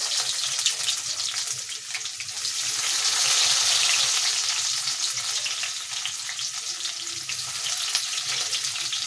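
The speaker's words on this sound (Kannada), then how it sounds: "ಎಣ್ಣೆ ಚೆನ್ನಾಗಿ ಕಾದಿದೆ ಇವಾಗ ಕಟ್ ಮಾಡ್ಕೊಂಡಿರೋಂಥ ಈರುಳ್ಳಿನ ಸೇರಿಸ್ಕೊಳ್ಳಿ" Chopped onions frying in hot oil for an egg sambar, a steady broadband sizzle that swells in the middle and holds up close throughout, with faint stirring and no voices.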